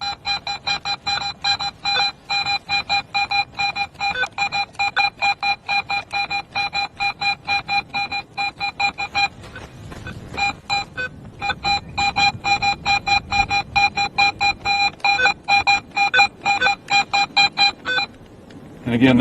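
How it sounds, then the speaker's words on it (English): A Garrett metal detector in pro mode beeps in a fast, regular train of tones as the DD coil is wiggled over a buried target, pausing briefly midway and near the end. "If I switch to pro mode, it'll sound like this."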